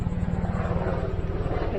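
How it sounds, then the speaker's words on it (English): A helicopter flies overhead near a small airport at a Cape Hatteras beach campsite, its low, steady rotor throb pulsing continuously and fairly loud, with a broad engine roar on top. "And there's a helicopter"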